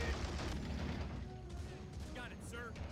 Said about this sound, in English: I'm hearing explosions,